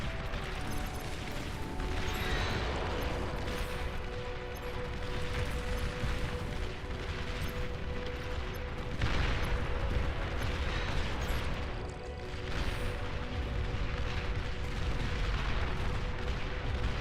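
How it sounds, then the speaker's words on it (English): Artillery in the real-time strategy game Beyond All Reason fires in dense, continuous barrages: rolling booms and crackling blasts overlap at a steady loud level throughout. "Man, that's a lot of artillery."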